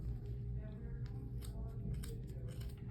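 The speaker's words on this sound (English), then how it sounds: "you're able to take your scissors and just cut down the middle" Scissors snipping through thick yarn wound on a pom pom maker, a steady run of quiet close cuts with small sharp clicks, heard alone without talk.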